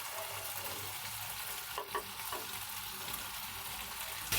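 Fried potatoes sautéing in a masala gravy for a village-style duck egg curry, a steady soft sizzle with a couple of faint stirring scrapes, close and unbroken, no talk.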